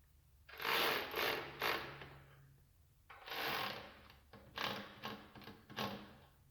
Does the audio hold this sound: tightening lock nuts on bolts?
yes